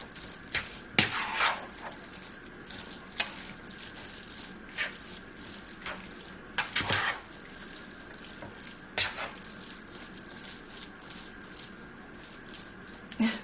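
Wet brown rice with curry portobello sauce is stirred and mashed in a pan, giving soft squelching, sticky smacks and a few sharper clacks over a faint hiss, close and alone.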